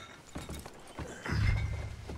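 Horse hooves clip-clop in Red Dead Redemption 2, a few uneven thuds close by with low rumbling movement and faint background ambience, no talk over them.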